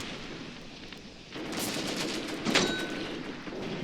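In the WWII tactical game Graviteam Tactics: Mius Front, gunfire and mortar blasts rumble in a dense, continuous battle din that swells after a quiet start, with a sharper crack in the middle.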